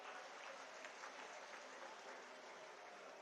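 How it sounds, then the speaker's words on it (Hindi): A large crowd at a political rally of Aam Aadmi Party supporters applauds with steady, dense clapping, heard from a distance as a continuous wash of sound with no pauses. "सबसे पहले जोरदार तालियां अपने लिए बजाइए आप लोग"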